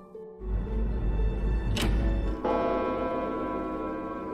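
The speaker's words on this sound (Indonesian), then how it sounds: "tiba-tiba lonceng jam berbunyi" A clock bell at a school strikes once with a bright metallic onset, its tone ringing on and slowly decaying over a low steady hum, with no talk.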